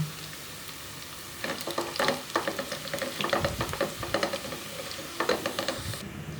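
Whole cardamom, cinnamon pieces, cloves and peppercorns frying in oil for a Bangladeshi beef and potato curry, giving a steady sizzle broken by scraping stir strokes.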